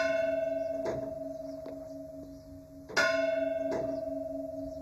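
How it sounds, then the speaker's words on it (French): A village church bell in France rings the Angelus, its bright metallic strikes landing about once a second with long humming resonance between them, clear and unaccompanied by voices. "Puis la cloche s'emballe et c'est parti pour 98 coups."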